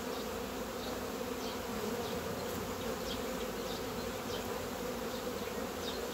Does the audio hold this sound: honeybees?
yes